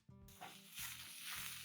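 Vegetables sizzle as they are tossed in a hot pan over a medium flame while breakfast cooks, a steady bright frying hiss that swells in bursts with each toss, close and fairly quiet, with no talking.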